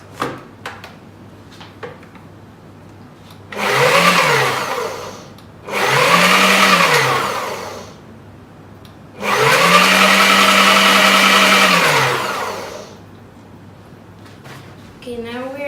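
An electric mixer beats pumpkin bread batter of sugar and canola oil in a bowl, whirring in three separate bursts of a few seconds each, the last one longest, with a quiet room between them.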